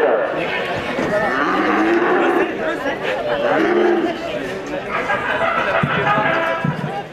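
A cow lows amid a noisy, bustling bullring arena crowd at a cocarde cow race in Vestric, with continuous chatter and shouting around it and occasional thuds.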